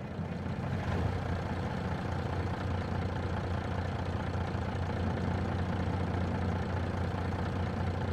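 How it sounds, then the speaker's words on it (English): A Mack dump truck engine in Farming Simulator 22 idles with a steady, low rumbling drone that holds constant throughout, with no talk over it. "I love this dump truck. I love the sounds of it."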